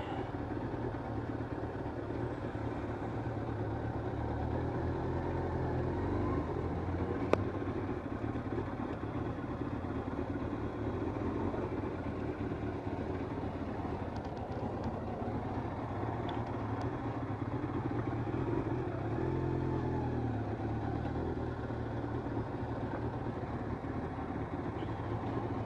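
A Yamaha YZF1000R motorcycle idles nearby with a steady, continuous low engine rumble that runs under light background noise the whole time. There is one brief click partway through.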